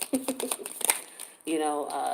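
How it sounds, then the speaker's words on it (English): Tarot cards shuffled by hand in quick, papery riffling bursts close to the mic, followed by a voice talking over a steady background. "you can see me shuffling the cards straight up"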